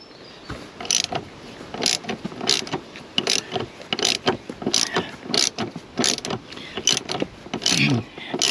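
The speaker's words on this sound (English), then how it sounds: "we're using a 12mm socket on it" A ratchet with a 12mm socket works on the seat bolts of a Chevrolet Suburban, giving repeated sharp clicking bursts in an uneven rhythm, close and fairly loud, with quiet pauses between strokes.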